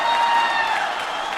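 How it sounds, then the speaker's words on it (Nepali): A convention hall crowd applauds to welcome the party chairman and the prime minister at the opening session of Nepal's Rastriya Swatantra Party national convention. The clapping is a dense, steady burst that fills the whole short stretch. "एकचोटि पार्टी सभापतिज्यू र वरिष्ठ नेता एवं प्रधानमन्त्रीज्यूलाई जोरदार तालीका साथ स्वागत गरौं।"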